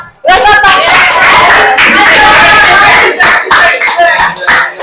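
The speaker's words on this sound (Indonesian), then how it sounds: "kasih tepuk tangan" Classroom students clapping at the end of a group puzzle activity, a loud burst of scattered claps mixed with lively children's voices and chatter throughout, tapering into a few uneven claps near the end.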